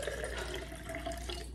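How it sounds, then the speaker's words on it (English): Water pours into a Ninja Blast portable cordless blender in a continuous, close splashing stream with no talking. "So I'm gonna start by adding some water to the bottom."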